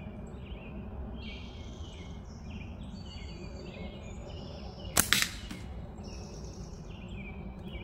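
A single sharp gunshot from a gun firing at steel cans with 1/4-inch steel, cracking out once around the midpoint over steady outdoor ambience with birds and insects in the background.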